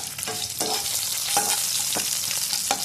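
Dried red chillies fry in hot oil, where they have just joined curry leaves, making a loud continuous sizzle broken by several sharp scraping strokes of a spatula stirring the pan.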